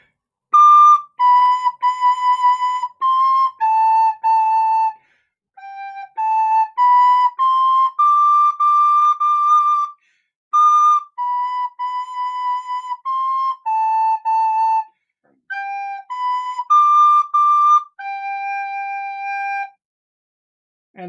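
A recorder plays the simple tune Lightly Row alone, a clear run of steady, breathy single notes in short phrases with brief pauses between them, close and fairly loud.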